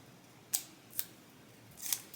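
Three crisp scissor snips cut through a sewn fabric pattern piece for a tote bag, trimming it to size; the cuts come at spaced intervals in a quiet room, close and distinct.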